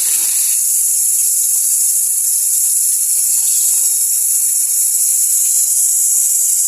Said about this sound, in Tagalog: nalagyan na po natin ng tubig. Yan. Tapos, pakuluan. Hanggang sa maluto.